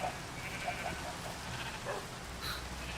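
Bleating of sheep in Minecraft, with several short blocky bleats from the colored flock scattered across the moment over a steady low background hum.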